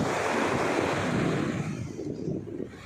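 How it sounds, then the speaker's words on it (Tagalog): Calm sea waves washing onto a white sand beach, a steady soft wash of surf with wind rumbling against the microphone, no voices. "hindi siya gano'ng malakas yung alon"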